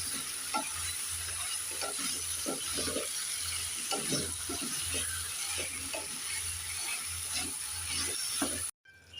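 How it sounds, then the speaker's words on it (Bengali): Chopped tomatoes stirred into a frying sarpunti fish curry with ridge gourd, rhythmic scraping strokes of a spoon over a steady sizzle and low hum, cutting out abruptly at the end. "এবার দিয়ে দেব কেটে রাখা টমেটো একটু নেড়ে চেড়ে দিয়ে দেব"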